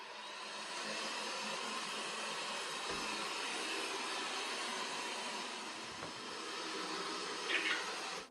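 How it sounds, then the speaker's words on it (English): A SEEGO S1 robot vacuum with UV runs steadily, a continuous whirring hiss of motor and suction holding level throughout, close and alone without speech. "let's just see how well this robot vacuum does."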